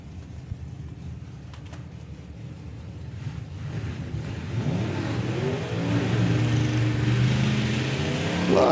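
Flathead-engined drag car at a nostalgia drag racing event rising from a low idle rumble into a loud, climbing engine roar as it launches down the strip, heard from trackside.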